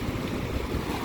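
Big waves crash on the Lake Michigan shore at the Portage, Indiana Riverwalk in a steady, loud, close roar of surf mixed with wind rumble, with no voices.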